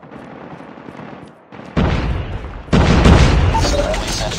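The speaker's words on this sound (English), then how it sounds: "Friendly sentry gun deployed." A sentry gun firing in the Call of Duty Mobile shooter, rapid automatic gunfire with booming impacts that grows louder in two abrupt steps, becoming a dense, sustained barrage over game audio.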